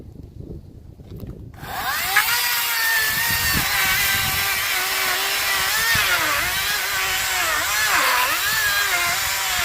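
A chainsaw revs up after a quiet start and cuts steadily through a punky, rotten log, loud and close, its pitch dipping as the chain bites into the wood.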